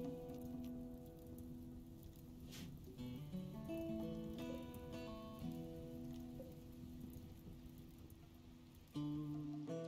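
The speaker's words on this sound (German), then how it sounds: "es regnet" Rain in the video game RimWorld: a soft, steady patter running quietly under melodic game music, without voices.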